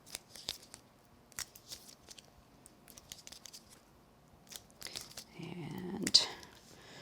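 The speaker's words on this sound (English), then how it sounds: "Nip away the little bit of extra." Scissors snipping paper close by to trim the excess around a die-cut shape in a crafting setup, quiet short crisp cuts with light paper rustling, ending in a louder crinkle.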